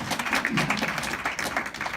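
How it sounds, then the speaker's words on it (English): Audience applause at the PAC 2018 event, a steady wash of clapping hands from a crowd, moderately loud and continuous with no voices over it. "give you guys yourself a round of applause for coming through"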